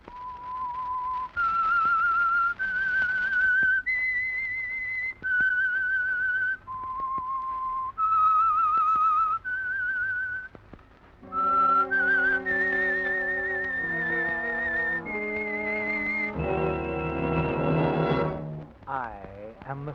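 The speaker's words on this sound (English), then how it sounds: "That whistle is your signal for the Signal Oil Program" A lone whistler performs the eerie theme of The Whistler radio drama from 1948, a slow melody of sustained clear notes, joined midway by a low orchestral chord swell that builds under the tune.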